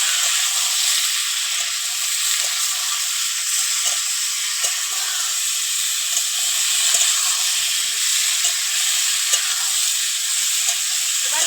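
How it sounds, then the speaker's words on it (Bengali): Potatoes and tomatoes fry in oil in a pan for a light katla fish curry. A loud, continuous sizzle and hiss runs close and unbroken, with no talking. "ভালো করে একটু ভেজে নেব। এবার দিয়ে দিচ্ছি সবজি, আলু আর টমেটো।"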